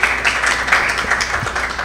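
Audience at a Miss USB pageant show applauding, a dense wash of clapping held steady at a loud level for the short stretch.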